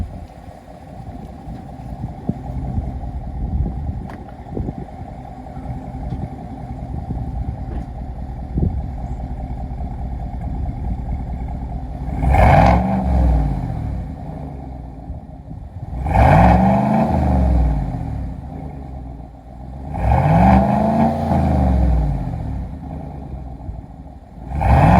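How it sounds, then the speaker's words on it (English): A Chevrolet Silverado 5.3 V8 with a Borla Atak crate muffler idles with a deep rumble, then three sharp revs rise and fall in quick succession, close and loud. "Alright, so I'm going to give you some revs real quick."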